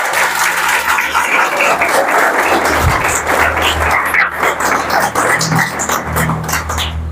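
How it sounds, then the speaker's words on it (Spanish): Church congregation applauding, a loud sustained round of clapping from many hands filling the room for about seven seconds, with low background hum beneath. "Cántale un aplauso bien fuerte al Señor como Jesús."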